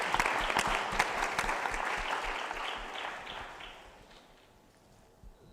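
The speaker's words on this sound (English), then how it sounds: "give her a clap" Audience applause at a university panel event, a dense burst of clapping from a seated crowd that gradually thins and fades over several seconds.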